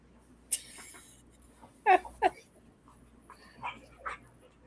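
A dog gives a couple of sharp yips and barks and then softer whimpers in an indoor setting, with a person talking faintly between the sounds.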